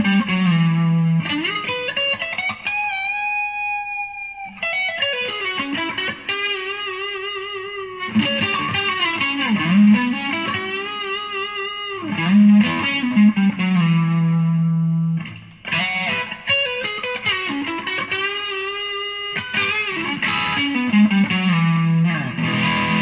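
Gibson Firebird electric guitar on its front pickup with a distorted rock tone plays ringing chords and sliding single-note phrases in several bursts separated by short gaps, loud and close, with no talk.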